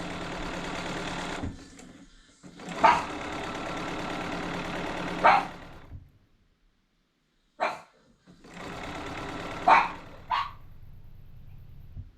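A small pug barks in short bursts over a loud whirring sewing machine drone that stops and starts, with brief pauses of silence between.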